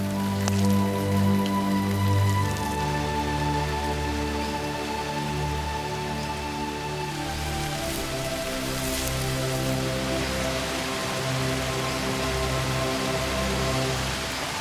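Steady, dense rain pours over a southern Chinese jungle during the rainy season, a constant hiss of drops on foliage and surfaces filling the whole stretch.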